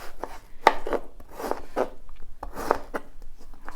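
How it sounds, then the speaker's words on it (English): A knife thinly slices a large pear on a board, giving a series of crisp, close cuts in an uneven rhythm, with no talking. "Then I like to lay it flat and just again thinly slice."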